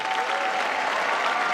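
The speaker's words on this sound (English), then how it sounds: "Give them a big round of applause." Steady, dense applause from an awards-night crowd honouring coaches and assistant coaches, a continuous wash of many hands clapping at even loudness throughout.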